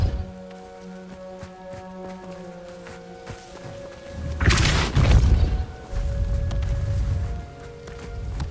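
A Depulso force spell cast in Hogwarts Legacy lands as a loud, deep burst of whooshing impact mid-clip, followed by a rumbling low tail over a steady ambient game backdrop with faint musical tones.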